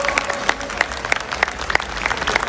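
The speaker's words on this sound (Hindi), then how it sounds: "एक बार और जोर से तालियां बजाइए।" Crowd applause with sharp, dense clapping throughout, moderately loud and steady, no voices on top.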